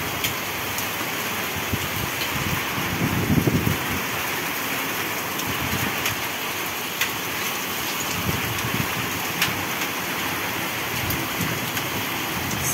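Heavy rain pours steadily during a long, violent thunderstorm with wind and hail over a garden plot, a dense constant hiss with occasional low rumbles and sharp pattering hits.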